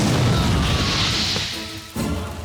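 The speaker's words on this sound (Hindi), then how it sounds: "पैर हटा, बम फटा।" A bomb explodes in a Hindi-dubbed South Indian action film: a loud, roaring crash with rumbling debris dies down, then a second sharp burst hits near the end.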